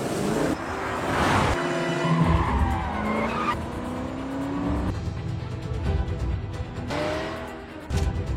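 Car engine revving and tyres skidding in a film chase, with a car pursuing from behind; loud, continuous screeches and engine surges across several bursts, with no talk.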